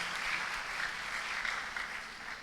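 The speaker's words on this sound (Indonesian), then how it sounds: "Berikan tepuk tangan buat Tuhan dulu." Congregation at a church revival service clapping in praise, a faint, steady wash of applause heard from a distance and lasting only a couple of seconds.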